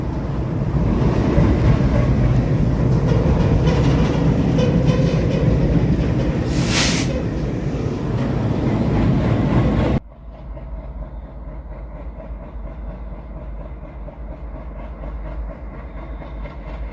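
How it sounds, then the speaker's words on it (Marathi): A freight train loaded with gravel rumbles along the rails near Beed, Maharashtra, with steady clatter and rolling noise for about ten seconds, then the sound drops to a quieter, muffled rumble. "तर ही ट्रेन सध्या आपण आता राजुरीच्या साईडने चाललेली आहे खडी टाकत टाकत"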